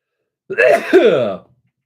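A single loud, close sneeze with a voiced, drawn-out quality, standing alone in an otherwise silent moment.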